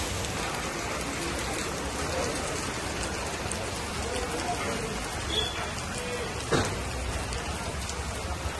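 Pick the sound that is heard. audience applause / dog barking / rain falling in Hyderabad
rain falling in Hyderabad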